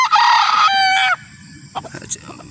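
Rooster crowing on a farm in Roxas, a single loud, drawn-out crow lasting about a second, followed by faint scattered clucks and background noise.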